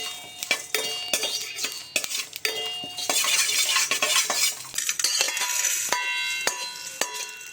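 A metal spoon stirs and scrapes in a pan as ingredients for a sweet-sour lemon chutney are dry-roasted over gas, giving rapid close clinks and scrapes with a soft rustle of moving ingredients beneath.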